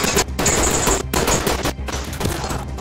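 Gunfire pours through a wall in Ready or Not, loud rapid bursts of automatic shots broken by two brief gaps, close and harsh with no talk over it.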